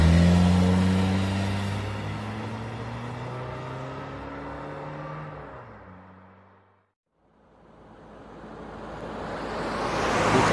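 Vehicle in a Lego dinosaur island animation driving off, an engine drone with rising and falling tones that fades to silence, then a rushing whoosh swells back in.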